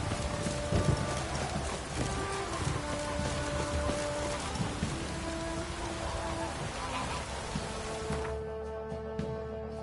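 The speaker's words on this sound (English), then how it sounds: "Oh, it's drizzling." Light drizzle falls with a soft, continuous patter in The Witcher, mixed with hoof clip-clop and scattered game sounds, then fades away near the end.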